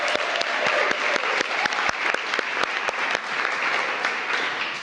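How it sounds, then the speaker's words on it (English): An audience at an early childhood education event led by the mayor breaks into applause, a full crowd of clapping with a few sharp, distinct claps standing out near the front, continuous for several seconds. "so that actually deserves a round of applause"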